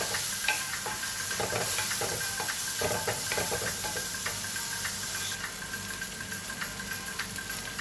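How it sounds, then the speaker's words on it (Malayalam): Shallots and chopped tomato sauté in a pan for a Kumarakom-style fish curry, giving a steady close sizzle broken by repeated scraping and clinking stirs, with no voices. "കുത്തി അരിഞ്ഞ തക്കാളിക്ക് ചേർത്ത് കൊടുത്ത് അതും ചേർത്ത് വഴറ്റുന്നു"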